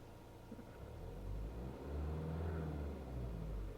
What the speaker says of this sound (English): There is a typical diesel gravelly note. It's a bit of a rumble at idle.